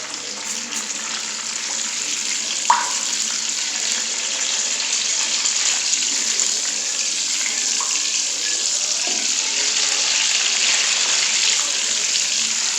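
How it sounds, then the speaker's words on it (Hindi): Cumin seeds frying in hot oil, about half a tablespoon, giving a steady bright hiss with a few faint pops and crackles, fairly close and unbroken throughout. "हम इसमें ज़ीरा ऐड करेंगे थोड़ा सा, तकरीबन हाफ टेबल स्पून, और ज़ीरे को अच्छे से फ्राई करेंगे"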